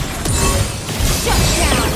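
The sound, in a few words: turret being destroyed in a video game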